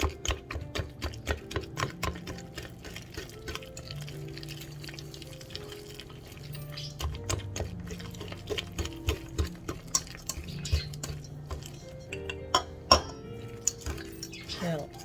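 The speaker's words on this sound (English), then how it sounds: "we're gonna whisk it really good here" A whisk beats pear almond tart batter of butter, flour, eggs, vanilla and sugar in a bowl, a steady run of quick rhythmic clicks and scrapes against the bowl, close and fairly soft.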